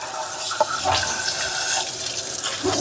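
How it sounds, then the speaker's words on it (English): Water sprays in a steady, hissing stream into the auto-empty opening of a Dreame D20 robot vacuum dock, splashing close to the microphone. "We'll just shoot some water down in there."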